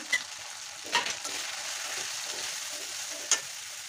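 Spice paste of ground cumin, dried chili powder and ground coriander frying in a pan while cooking eel with garlic, giving a steady close sizzle with a few sharp stirring clacks, and no voices.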